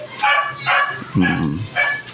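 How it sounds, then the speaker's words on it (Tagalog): Dogs bark loudly and close by in four sharp bursts spaced roughly half a second apart, with a brief voiced sound between them. "Mga aso nagtatahol."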